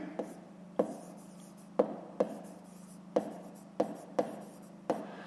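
A pen writes out a fifth-grade maths exercise on paper in short scratchy strokes, with sharp taps at a loose, uneven rhythm, heard up close.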